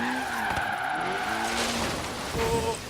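A tuned Evo IX slides with the e-brake in Forza Horizon 3, with sustained tire squeal and skidding over a revving engine, close and continuous for about three seconds.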